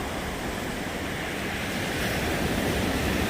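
Surf rolls onto the beach at sunset on Marco Island, Florida, as a steady, full wash of waves mixed with wind that grows slightly louder toward the end.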